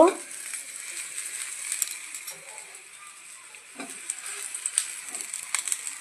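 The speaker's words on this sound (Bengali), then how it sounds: "আমি এখন তাওয়ায় বেগুনটা দিয়ে দেব" Eggplant slices frying on a hot gas-heated tawa griddle, a faint crackling sizzle with scattered pops and utensil clinks throughout.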